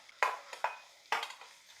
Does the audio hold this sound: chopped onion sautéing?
yes